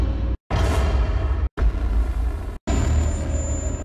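Three loud cinematic impact hits play back to back, each a heavy boom with a noisy crash tail, separated by brief gaps of silence.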